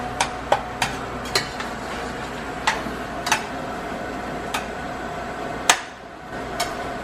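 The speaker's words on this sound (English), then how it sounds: "you're gonna stir it together" Turkey chili being stirred in a pot, a spoon knocking against the sides in a series of sharp clicks and taps at irregular intervals over a soft steady background.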